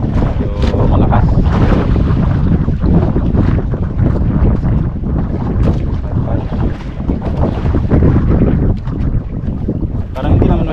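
Strong wind buffets the microphone at sea aboard a fishing boat, a loud continuous roaring gust with rushing water and waves beneath, steady throughout with no clear speech.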